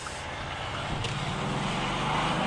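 A Maserati Ghibli's engine drones low and steady from inside the cabin while driving at about 50, a continuous muffled hum that swells slightly toward the end.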